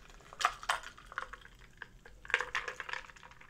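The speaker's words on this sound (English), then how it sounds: "just pour this directly into the glass" Liquid splashes into a glass for a cocktail, made with lemon, in a few short bursts of pouring and dripping close by, with faint clinks in between and no talking.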